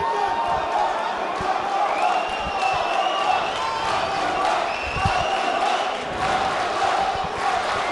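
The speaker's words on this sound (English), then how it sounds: "And everybody here cheering for Abdul Amer." A crowd at a fight event cheers and roars continuously, with shouts and scattered thumps under a dense wash of voices.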